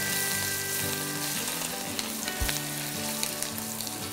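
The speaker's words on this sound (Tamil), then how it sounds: "எல்லாம் சேர்த்து நல்லா ஒரு வதக்கு வதக்கிடலாம்." Drumstick stems frying with asafoetida for rasam give a steady close sizzle in the pan, with a few soft stirring scrapes and no voices.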